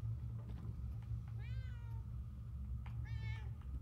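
A cat in the video game Murdered: Soul Suspect gives two short meows a couple of seconds apart, quiet over a low steady background hum.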